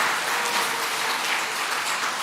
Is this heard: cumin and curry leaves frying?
no